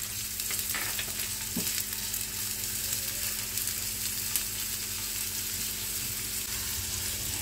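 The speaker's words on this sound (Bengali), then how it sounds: "তেলটা আমার গরম হয়ে গেছে, ছেড়ে দিচ্ছি। পেঁয়াজ দিচ্ছি, একটা ছোট পেঁয়াজ খুব কুচি করেছি" Very finely chopped small onion frying in hot oil in a pan, a steady dense sizzle that runs throughout, close and even, with no talking.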